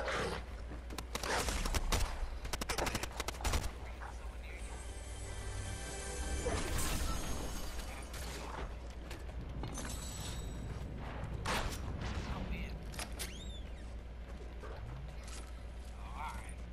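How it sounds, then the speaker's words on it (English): Gunfire rattles through a Fortnite Battle Royale trio match, sharp cracks and bursts mixed with crashing, smashing game noises in dense, continuous action. "I think somebody was shooting over there by you"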